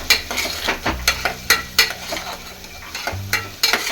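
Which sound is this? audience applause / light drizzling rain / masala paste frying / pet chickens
masala paste frying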